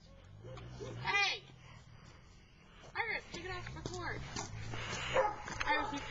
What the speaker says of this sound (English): We need to move down farther because those dogs are barking at us.